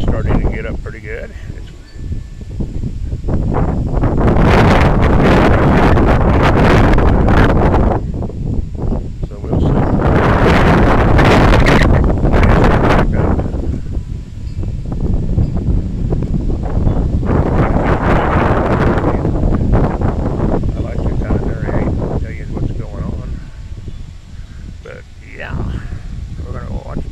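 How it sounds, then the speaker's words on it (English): Strong storm wind gusting outdoors near trees, loud roaring buffets across the microphone that swell and ease in long waves, with a person talking faintly underneath. "the wind's starting to get up pretty good."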